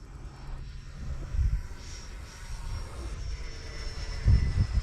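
Freewing F-4 Phantom 8S RC jet flying overhead, a steady whooshing electric ducted-fan whine at moderate distance, swelling slightly in the middle and growing louder near the end, with some low wind rumble.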